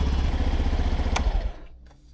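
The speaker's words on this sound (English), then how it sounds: "and let the engine idle for about 5 minutes." A Honda Vision 110cc 2024 scooter engine idles with a steady low putter, fairly close, then cuts out abruptly near the end, leaving quiet.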